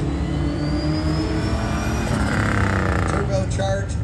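A turbocharged V8 Dodge Diplomat police car accelerates wide open on a racetrack, its loud, steady engine roar rising continuously in pitch, with voices faintly mixed in.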